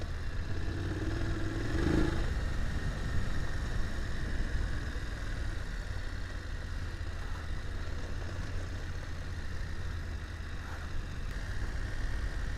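A BMW F850GS Adventure motorcycle ridden slowly off road over easy trail terrain, a steady low engine rumble with clattering and rough wind noise, briefly louder near the start.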